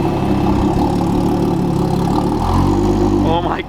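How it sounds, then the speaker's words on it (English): An Audi B8 S4 engine revs up toward 4000 rpm with the brake held, a loud, close, sustained engine roar that builds and holds, with people talking over it. "you foot on the brake, and then it'll rev up to like 4K"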